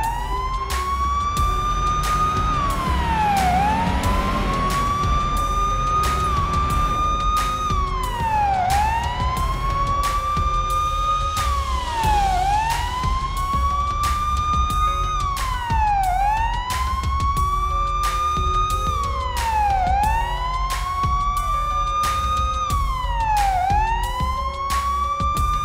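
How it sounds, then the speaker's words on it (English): Police car sirens in the video game Police Simulator: Patrol wail loudly and continuously, a rising and falling electronic siren repeating in regular sweeps over a steady engine drone. "Lights and sirens on."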